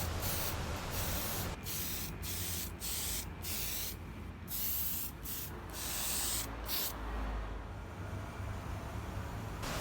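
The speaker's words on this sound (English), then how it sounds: "I finish it up with a clear coat." A clear coat is sprayed onto hand-forged nails in short bursts, each hiss starting and stopping several times, close and steady with no talking.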